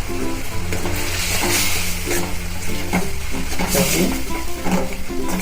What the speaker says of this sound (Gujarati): ચલાવીએ છીએ અને આ ટમેટા એકદમ ગળી જાય ને ત્યાં સુધી આપણે એને સોતે કરવાની છે